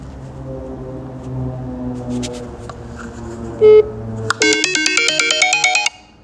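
A phone in an abandoned old doctors' surgery: a single dial tone sounds, then after a pause a loud, rapid electronic ringtone trills close by for about a second and a half before cutting off.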